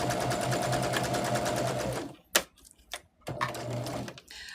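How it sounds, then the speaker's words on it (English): Sewing machine stitching 5-inch fabric squares together for a patchwork pillowcase cover, running in a steady fast whirring buzz for about two seconds, then stopping with a few clicks before a second burst of stitching. "Line everything up, take it to our machine, and stitch."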